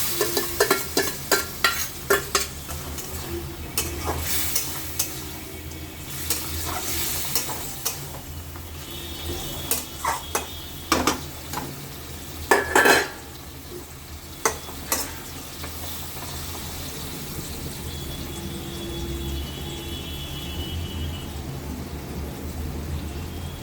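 Pointed gourds with salt and sugar sizzle in a pan while a spatula scrapes and knocks against the metal in irregular bursts over a continuous low frying hiss, close by.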